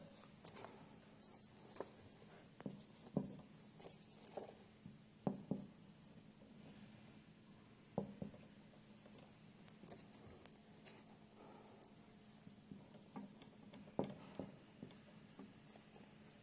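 Pen or marker writing on a surface, with soft scratchy strokes and occasional sharper taps in an irregular rhythm, faint and close, alone over a low steady hum.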